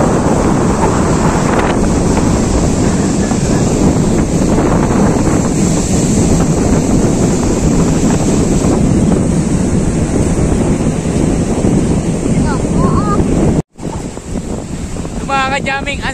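Strong wind buffets the microphone over the constant rush of ocean waves, loud and unbroken, with a brief dropout near the end.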